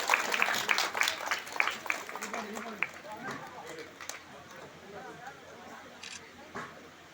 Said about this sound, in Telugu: ఓకే, అందరూ గట్టిగా చప్పట్లు తగ్గండి